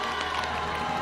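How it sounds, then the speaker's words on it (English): Audience cheering and applause for Miss South Africa at the 2024 pageant, a steady dense wash of crowd noise with whoops throughout, loud and continuous. "we should all give her a round of applause"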